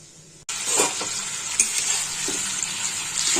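Tomato pieces fry and are stirred in a pan for a Bengali eggplant and tengra fish curry, giving a steady close sizzle with soft scraping stirs after a brief quiet start and no talking.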